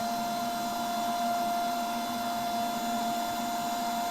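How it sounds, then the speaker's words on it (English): OutdoorMaster Shark 3 electric pump in its high-pressure piston stage, a steady close buzzing drone with a constant whine, unbroken for the whole stretch. "that second stage high pressure kicks in. It's like a piston drive and inflates it to that maximum PSI"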